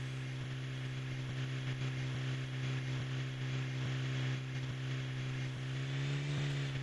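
Flying helicopter from modded Minecraft, giving a continuous engine drone with soft repeating rotor pulses, the pitch lifting slightly near the end, and no speech over it.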